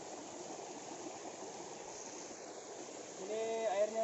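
A clear stream flows steadily nearby, giving a continuous broadband rush of water along a rough jungle river trail near Tonyong, Salem, with some louder splashy movement near the end.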